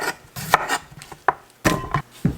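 A knife slices through a fresh, homegrown cucumber on a cutting board, making about eight crisp, close chops in an uneven rhythm, with no talking.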